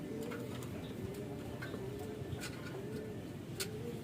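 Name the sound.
racing pigeon cooing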